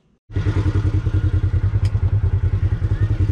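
A 2020 Polaris RZR High Lifter 1000 side-by-side engine starts abruptly and runs at a loud, rough idle, with a fast regular pulsing throb close to the listener.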